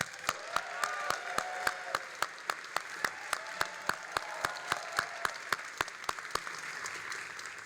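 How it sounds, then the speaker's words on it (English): Applause from a graduation ceremony audience honoring a Vice Dean, a steady wash of clapping with sharp, evenly spaced loud claps cutting through at a regular beat throughout. "give her a strong round of applause"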